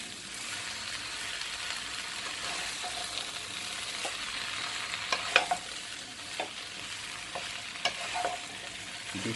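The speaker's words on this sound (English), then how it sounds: "Toss this mixture." Spinach and turmeric tossed in a frying pan give a soft, continuous sizzle with a few light scrapes and clinks of the utensil, fairly quiet and with no talking.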